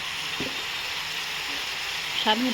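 Spices sizzling in a pan as a dried-fish curry is sautéed, a steady soft sizzle with scraping stir sounds, and a voice speaking briefly near the end.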